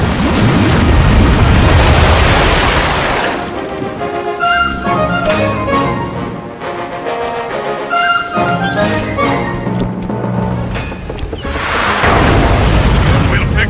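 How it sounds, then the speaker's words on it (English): Deep booming cannon blasts from the Sly Cooper video game, with loud rumbling bursts at the start and end around a stretch of quieter game sounds and music in the middle. "Thunder cannon!"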